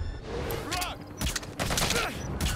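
Gunfire in Metal Gear Solid V: The Phantom Pain, a rapid fusillade of loud close shots in bursts, with voices and tonal effects mixed in over it.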